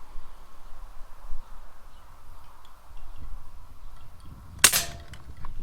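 A PX airsoft pistol fires a single sharp, close crack at a Temu target, standing out against quiet low background rumble with no voices.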